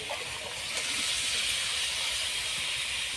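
Pre-fried fish heads, young jackfruit and potato pieces hit a hot pan of spiced masala, setting off a loud, steady hissing sizzle that runs unbroken throughout.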